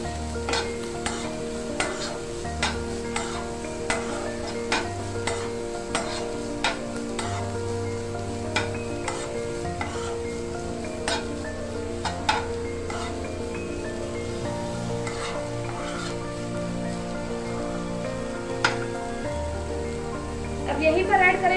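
Tomatoes and chopped green chillies cook in a pan for a cheese sandwich filling, a steady soft sizzle with stirring clicks under a constant bed of background music.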